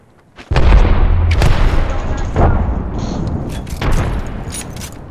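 A frag grenade goes off in a shooter video game, a sudden loud boom that rolls into sustained rumbling gunfire and further blasts, up close and dense, with voices talking over it.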